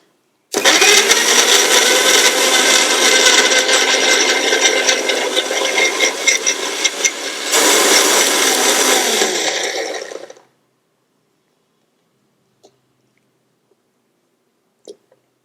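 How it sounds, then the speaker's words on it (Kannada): An electric blender juicing ash gourd roars loudly and continuously for about ten seconds, its pitch shifting partway through, then cuts off into near silence broken by a couple of faint clicks. "ಸೊ ಇದನ್ನು ನಾವು ಕಂಪ್ಲೀಟ್ ಆಗಿ ಇವಾಗ ಜ್ಯೂಸ್ ಮಾಡ್ಕೊಳ್ಳೋಣ"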